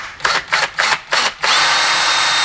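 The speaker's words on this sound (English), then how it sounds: "We're going to be using a 1/4-inch drill bit." A power drill with a 1/4-inch bit bores into a pipe, opening with five short bursts of whining spin and then settling into one continuous, loud, high-pitched run.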